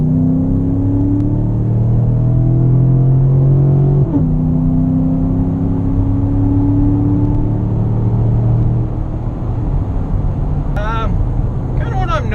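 A 2014-or-later Chevrolet Silverado pickup with an aftermarket cold air intake accelerates hard from a 40 mph roll, with a loud engine drone climbing in pitch, a gear change partway through, then a steadier cruise heard from inside the cab.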